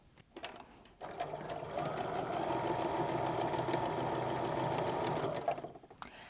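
Sewing machine running a seam on a quilt block, a short start followed by about four seconds of steady close whirring stitching that stops abruptly, with faint background noise.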